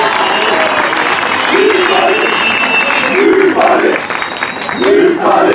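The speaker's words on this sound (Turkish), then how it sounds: "Huzurlarınızda büyük başkana kuvvetli bir alkış istiyorum." A crowd at a public event applauds the mayor with steady, loud clapping throughout, while someone speaks over it in bursts and cheers rise near the end.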